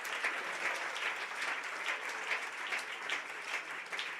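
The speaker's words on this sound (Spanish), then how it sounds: "Alguien puede aplaudir la soberanía y el señorío." A church congregation claps in honour of Christ's lordship during a sermon, steady rhythmic applause from many hands, moderately distant and even in loudness from start to finish.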